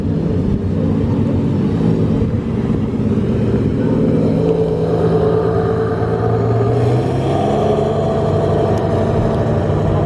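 A Lexus LFA supercar drives past on a closed road, a steady loud engine rumble and roar that holds throughout and shifts in tone as it goes by.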